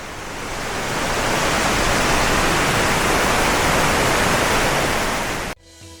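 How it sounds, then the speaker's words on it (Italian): A waterfall in the Orrido gorge near Trento, heard from directly beneath it, pours as a loud, dense, unbroken roar that cuts off abruptly near the end. "siamo proprio sotto la cascata"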